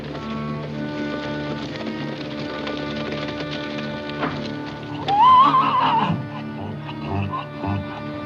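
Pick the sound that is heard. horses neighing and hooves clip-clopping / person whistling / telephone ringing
horses neighing and hooves clip-clopping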